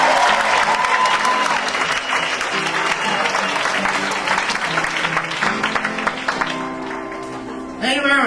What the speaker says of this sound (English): So now I gotta ask you to bring that US Open clap up to a World Series cheer for Adam Wade.